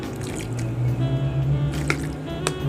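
About a cup of plain water is poured into a homemade cheese sauce for cheesesteaks, giving a steady, close trickling and splashing with a few small drips.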